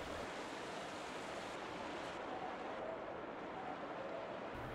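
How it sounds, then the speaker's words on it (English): Water flows steadily on a dam level of the Evolve video game, a dense, even rush like a stream or waterfall that holds at the same level throughout, with no voices over it. "That water sound."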